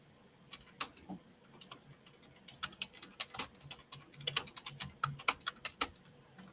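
Keys on a stiff computer keyboard clack in irregular, close bursts of sharp clicks, fairly quiet and without talk, the strokes bunching faster toward the end.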